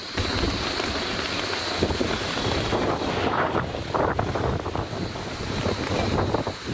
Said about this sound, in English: And this place is very windy. A lot of wind is blowing.